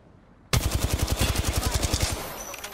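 Rapid automatic gunfire in the Apex Legends shooter, a loud close burst of about twenty evenly spaced shots that breaks in suddenly and rattles on for roughly two seconds before fading into a trailing ring.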